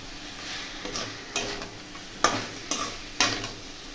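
Fried crabs tossed into cooked-down masala and stirred in a pan, a soft sizzle punctuated by a series of spatula scrapes and sharp knocks, several sharp clacks coming in irregular succession up close; no voices.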